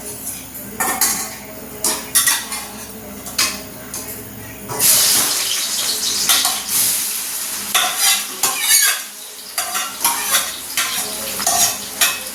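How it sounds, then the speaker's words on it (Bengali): Sliced onions frying in oil into beresta for chicken biryani on a gas stove: a steady sizzle runs under repeated metal scraping and stirring against the pan, with clinks of utensils throughout. "বেরেস্তাগুলো ভাজা হয়ে যাক"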